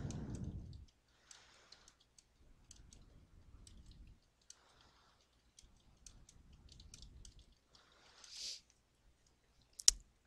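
Keyboard typing as text goes into a PowerPoint slide, faint close clicks in short irregular bursts separated by quiet gaps, with one sharper click near the end.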